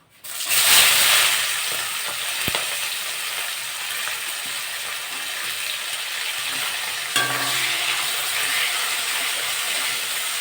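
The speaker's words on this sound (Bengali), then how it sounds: "গরম মশলাটা হয়ে গেছে আমি এবার পেঁয়াজ দিয়ে দেবো" Onions dropped into hot oil with whole garam masala and bay leaves for a chicken and potato curry burst into a loud sizzle, then settle into a steady hissing fry with a few faint stirs.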